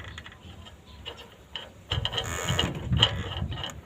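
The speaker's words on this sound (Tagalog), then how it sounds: "Lagyan natin tornilyo para hindi matanggal." A screw being driven into a wheel to keep it from coming off, heard as close, gritty ratcheting clicks and creaks that grow louder partway through, with no talking.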